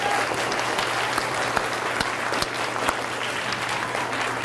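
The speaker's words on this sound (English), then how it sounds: "So give them a round of applause." An elementary school audience gives its teachers a round of applause, many hands clapping steadily with a few sharper individual claps standing out.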